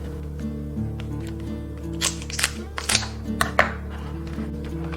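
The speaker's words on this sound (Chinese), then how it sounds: "切成的话，我们就给它处理成4小瓣就可以了" A green crab is chopped into four pieces, giving about five sharp, close cleaver strikes in the second half against the board, over background music with no talking.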